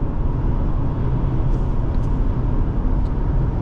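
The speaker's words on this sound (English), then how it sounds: "It is a windier day, and we hear a little bit of the wind noise" Steady, close wind rush and road roar fill the cabin of a 2024 Subaru Outback Wilderness driving on a windy day, a constant broadband hiss with no voices.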